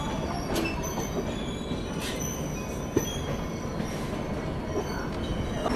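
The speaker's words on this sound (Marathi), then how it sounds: "आणि समोरची जी लोकल आहे बघा ही चालली आहे" A local train moves past at Ernakulam Town station in Kochi, a steady rumble of wheels with faint squeals and clicks, heard from a nearby carriage with no talk.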